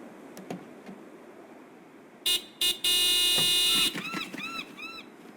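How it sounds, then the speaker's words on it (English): A car horn in the game Broken Sword 5: The Serpent's Curse honks twice in short bursts, then blares in one long continuous blast, followed by chirping bird calls in a quiet game scene. "Do me a favor and honk the horn."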